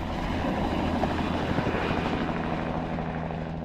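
A Bell 206 air-ambulance helicopter of Air Evac Lifeteam at a hospital landing zone gives a loud, steady rotor and turbine drone that fills the whole stretch without a break.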